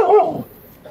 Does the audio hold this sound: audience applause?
no